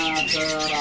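A caged cicak ranting songbird at a bird market kiosk gives a continuous, close, rising and falling squawking call with warbling chirps throughout.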